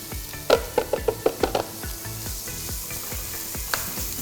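Shallots sautéing steadily with salt in olive oil in a hot pan, with a quick series of light scraping stirs early on and one later clink, no voices.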